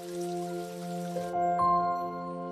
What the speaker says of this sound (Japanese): 雨止みそうにないし